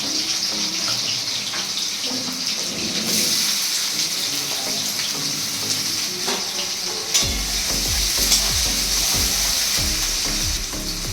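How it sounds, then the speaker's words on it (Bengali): Cumin seeds and chopped onion fry in hot oil, a steady broadband sizzle that jumps louder about two thirds through as more ingredients hit the pan, with soft scraping stirs underneath. "এবার আমি দিয়ে দেবো একটু গোটা জিরে, পেঁয়াজ কুচিগুলো দিয়ে দেব।"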